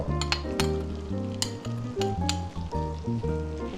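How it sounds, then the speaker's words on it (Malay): Chopped onion and garlic sauté in melted butter, producing a close sizzle broken by sharp spatula clinks against the pan, with a steady tonal hum underneath. "Tumis sehingga naik bau, sehingga garing."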